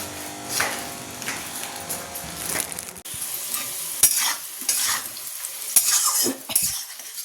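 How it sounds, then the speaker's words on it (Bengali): Potatoes frying in a pan, with a constant sizzle under repeated scraping and clinking strokes of a spatula or spoon against the metal, close and fairly loud. "এখানে আলু ভাজা হচ্ছে"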